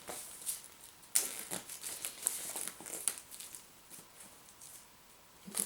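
Cardboard and paper packaging of an advent calendar game being opened by hand, with soft crinkling, rustling and a few sharp ticks and snaps, quiet and close, no speech.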